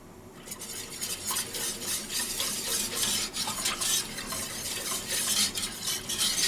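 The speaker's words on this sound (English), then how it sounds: "We're just whisking it together. break it all up, mix it in with the water real good." Gumbo mixture being whisked in a pot on the stove, broken up with water: a steady, continuous scraping and stirring swirl of whisk against metal, fairly close and busy, with no voices.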